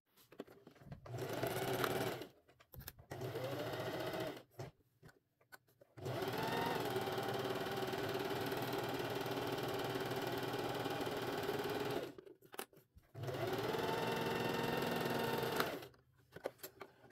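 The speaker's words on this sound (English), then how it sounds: "I'm sewing with a 1/2-inch seam allowance." Sewing machine stitching the lining of a fully lined tote bag at a half-inch seam allowance, running in several close, steady bursts separated by short pauses, with no voices.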